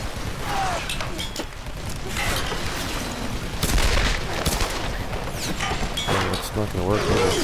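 Gunfire aimed at an enemy in the action game Tomb Raider, scattered loud shots and impacts cracking through a noisy mix of game effects and clattering.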